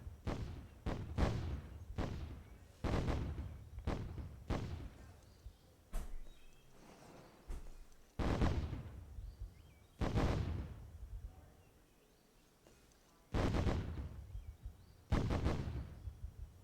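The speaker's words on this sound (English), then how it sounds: "See some airstrikes going down." Repeated booming explosions and airstrikes in the video game Myth II: Soulblighter, roughly every one to two seconds, some sharp and close, others rumbling and distant, with a loud battle-like din between blasts.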